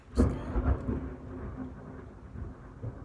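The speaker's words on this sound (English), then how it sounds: "there's thunder" Thunder rumbling during a sudden storm that rolled in after a warm, sunny day: a low, broad boom near the start, then a long fading rumble, with no voices.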